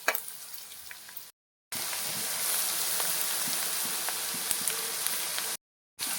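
Ginger garlic paste sizzling with browned onions in a pan for a small fish curry with tamarind leaves, a steady loud frying hiss broken by two brief silent gaps.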